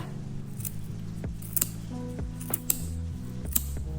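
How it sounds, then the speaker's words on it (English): Scissors cutting across yarn wrapped on a hardcover book spine, a few short snips and crunches over a steady background hum, close and fairly clear. "I'm going to insert my scissors kind of in the middle of the spine. I'm just gonna cut across."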